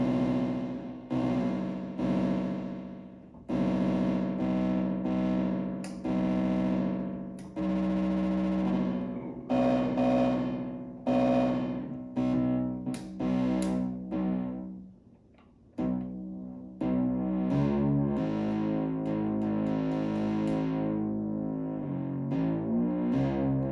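A Moog Werkstatt analog synthesizer plays the Unsteady Bass patch: gritty, distorted bass notes with warbling, wavering pitch. They come in phrases, with a brief pause near the middle, then a faster, bubbling pulsing run. The synth plays alone.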